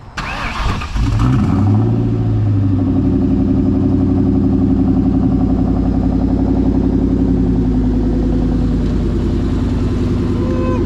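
A Ford Mustang Mach 1 engine cranks and catches, then settles into a loud, steady, rumbling run close by, with a throaty low-pitched idle that carries on alone to the end.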